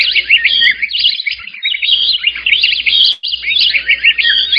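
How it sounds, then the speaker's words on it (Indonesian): Bright, fast bird chirping and twittering fills the whole stretch as a loud, continuous sound effect, with a brief gap near the middle and no voices. "suaranya seperti kicau burung"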